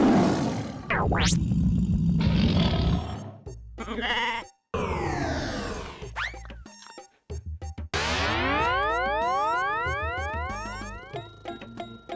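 A tiger roar in a Telugu comedy film scene, rumbling through the first few seconds and then giving way to loud cartoonish boings, rising and falling whistling sweeps and other comic sound effects, with no talking.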